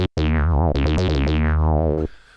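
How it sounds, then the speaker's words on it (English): TAL-BassLine-101 synth pulse wave with the filter swept up, giving a loud, buzzy robotic tone in several quick vowel-like filter wobbles over about two seconds before cutting off sharply into faint noise. "if we do pulse wave, and then turn this up, you get some weird robot noises."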